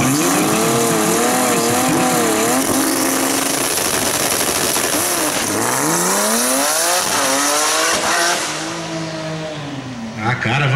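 Chevrolet Caravan drag car launching down the strip at a high-horsepower drag racing festival, engine roaring loud and continuous with rising and falling revs and tire squeal, the driver lifting off near the end.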